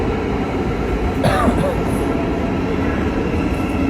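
A metro train pulls into a station with a loud, continuous low rumble and rolling hum, a brief whine rising partway through, and faint background chatter underneath.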